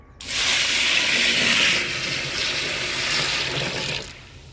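Lukewarm water poured from a vessel onto soaking moong dal, a steady close splashing rush lasting about four seconds before tapering off.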